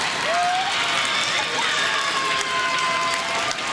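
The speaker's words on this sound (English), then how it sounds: "This crowd is cranked up." Crowd cheering and shouting continuously at a girls' varsity high school basketball game in a gym, loud and sustained, with a few whistle-like tones cutting through the roar.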